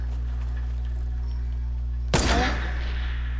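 A single sharp video-game gunshot cracks out two seconds in and trails off in a brief rattling echo, after a steady low electronic hum that runs underneath the whole time.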